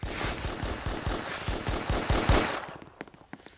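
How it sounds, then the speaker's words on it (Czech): Rapid automatic gunfire in a video game, a fast evenly spaced burst of sharp shots lasting over two seconds, then a few scattered single cracks trailing off. "Někdo střílí, se tam podívat."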